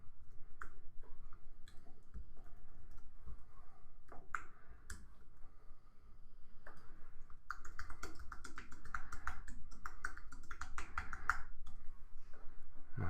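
Keys on a computer keyboard clack irregularly at first, then settle into a faster, steady run of close, crisp typing taps with no talk.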